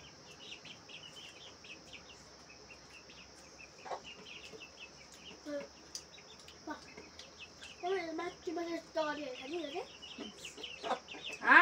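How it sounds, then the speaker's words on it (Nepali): Chickens cluck and call in a village yard, a mix of short clucks and rising squawks that grow busier toward the end, with birds chirping and a steady insect-like hiss in the background and voices talking quietly. "कुखुरा आएको"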